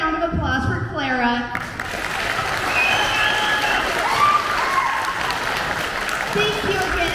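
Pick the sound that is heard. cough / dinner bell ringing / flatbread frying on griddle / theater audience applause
theater audience applause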